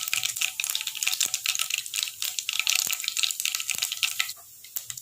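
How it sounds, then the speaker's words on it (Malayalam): Mustard seeds, about a teaspoon, dropped into a hot pan for chicken thoran, making dense crackling and popping with sharp ticks scattered throughout, close and loud, with no voices. "ഇതിലേക്ക് ഏകദേശം 1 ടീസ്പൂൺ വരുന്ന രീതിയിൽ കടുക് ഇട്ട് കൊടുക്കുക"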